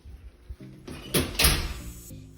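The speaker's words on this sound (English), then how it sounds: "This is my front door." An apartment front door in a New York City studio opens in a few short clunks and a louder latch-and-swing burst, close by and with no one talking.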